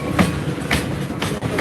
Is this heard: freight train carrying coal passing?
yes